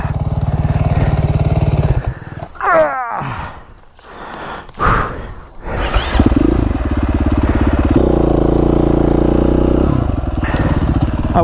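KTM 450 SX-F dirt bike engine on a ride, loud steady buzzing that drops away into sharp revs and sputters around a jump, then returns to a strong sustained drone.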